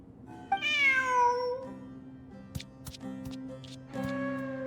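A cartoonish cat meows in the Genshin Impact video game, a clear rising-and-falling meow followed by a second shorter mew, set over a soft sustained game music backdrop with light chimes.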